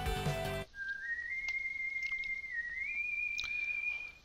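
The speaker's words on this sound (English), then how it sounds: "We got a cool Proto Man whistle right there." Proto Man's whistle from the Mega Man 7 video game plays as one clear, sustained melodic tone at moderate volume. It follows a brief burst of louder game audio and is heard alone.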